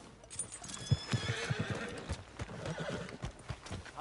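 Video game sound: hooves clip-clop at a walking pace close by, with a horse snorting and whinnying among them.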